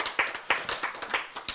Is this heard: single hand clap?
yes